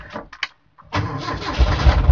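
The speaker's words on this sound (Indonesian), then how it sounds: "Coba saya gas lagi" A car engine with an IC alternator conversion catches and then revs, loud and close. The roar follows a few brief clicks and a short quiet gap, and it builds steadily toward the end.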